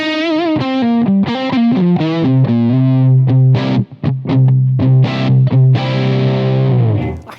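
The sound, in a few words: guitar tone through DSM & Humboldt Dumblifier overdrive pedal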